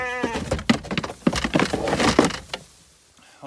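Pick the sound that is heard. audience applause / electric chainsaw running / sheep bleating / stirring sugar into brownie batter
sheep bleating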